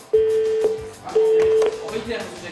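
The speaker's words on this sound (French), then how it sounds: "Ah, ça sonne." Two long electronic ring tones through a phone line, separated by a short pause, with faint background shuffling.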